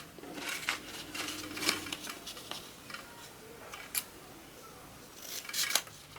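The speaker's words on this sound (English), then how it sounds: "So I'm folding it in half, fold at the top, the 2 openings on the bottom, and cut at a diagonal" Scissors snip through ribbon at a diagonal while a Christmas peppermint wreath is being made, giving several light, crisp cuts in loose bursts close by, with quiet room sounds between them.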